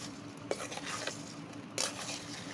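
Whole spices of cumin, coriander, dried chili and fennel frying in oil in a pan for a pickle masala, a steady close sizzle broken by a few sharp stirring scrapes and clinks.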